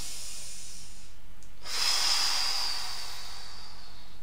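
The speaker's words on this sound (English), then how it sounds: "Take a deep breath here." A single deep, breathy exhale during a beginner yoga stretch, a soft airy hiss that swells suddenly, holds for about a second and fades, close to the microphone with no talking.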